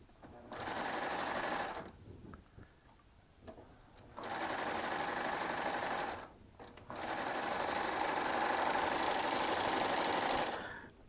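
Baby Lock Triumph serger fitted with a ruffling foot, running in three loud steady whirring bursts separated by short pauses, close up and alone.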